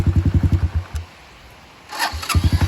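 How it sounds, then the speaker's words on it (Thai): Cold motorcycle engine, not yet warmed up, kick-started and catching on the first try: rapid chugging firing pulses, a brief pause, then the engine settling back into a steady close, loud putter. "เครื่องเย็นครับยังไม่อุ่นเครื่องครับ ยังไม่เคยสตาร์ทครับนี่ฮะ ครบยังไม่เคยสตาร์ทตอนเช้าครับ ครับทีเดียวติดครับ"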